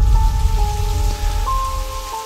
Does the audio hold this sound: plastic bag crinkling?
no